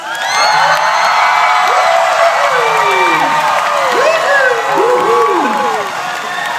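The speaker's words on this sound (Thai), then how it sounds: "ขอเสียงปรบมือนะครับ" A concert audience at a performance of a Thai pop song applauds and cheers loudly and continuously, with whoops and shouts rising over dense, sustained clapping.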